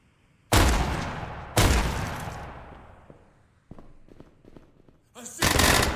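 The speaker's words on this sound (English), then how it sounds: "I heard shots." Gunfire in the Tactical Assault VR shooter: loud, sharp blasts and short bursts ring out close by, separated by quieter stretches of faint clicks and movement, ending in another heavy burst.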